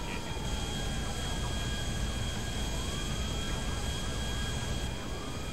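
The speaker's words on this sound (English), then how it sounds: "Just a plane flying upside down." Airplane flying overhead in the Grand Theft Auto 5 video game, a steady droning engine roar with a wavering tone, holding constant and loud throughout with no talking.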